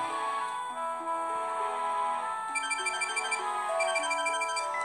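A phone in the video game Inazuma Eleven 2 rings as a bright electronic tone, playing over a steady game melody with a faint ticking pattern toward the end.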